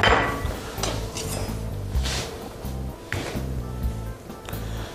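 A knife cuts raw chicken breast into pieces on a board, giving repeated dull knocking thuds roughly once a second, close and fairly loud.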